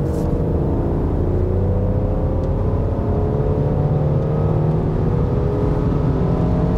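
A Mercedes C400 Cabriolet accelerates hard from about 80 km/h, giving a steady, loud engine drone that rises slowly in pitch under road and wind noise, with no talk.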